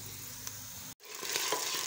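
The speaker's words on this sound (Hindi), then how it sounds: "हमने यहाँ पे थोड़ा सा पानी डालना है ताकि प्याज जो है वो सॉफ्ट हो जाएं।" Golden fried onions sizzling in a pan, then water poured in, with a brief break before a louder, brighter burst of hissing and spattering, close up with no talk.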